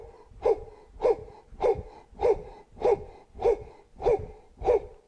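Forceful rhythmic breathing drill, eight sharp, loud exhalation bursts spaced evenly about every 0.6 seconds, each a harsh, gasping rush of breath with no talking.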